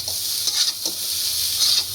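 Cooked rice fries in a pan, a bright continuous sizzle with the spatula stirring and scraping in short strokes, close and fairly loud.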